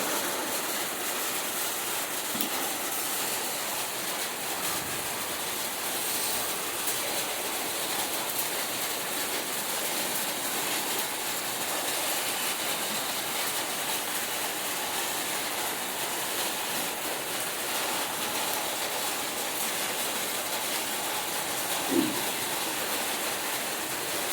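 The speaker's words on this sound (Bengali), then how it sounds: "বৃষ্টি পড়ছে বন্ধুরা, শব্দ পাচ্ছ?" Rain falls steadily in an even, unbroken hiss that continues throughout, with no talking and only a faint occasional knock.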